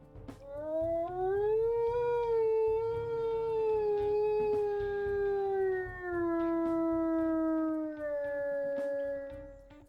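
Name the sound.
wolf howl from a video game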